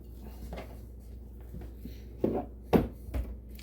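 A knife cuts raw goat meat from the bone on a board, making a few soft thuds and scrapes, with two sharper chops standing out near the end over a low hum.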